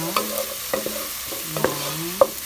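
Garlic and onion sautéing in a pan for mung beans with pork ribs, a light sizzle under a few distinct scrapes of a utensil stirring through the pan, close and fairly quiet, with no talking.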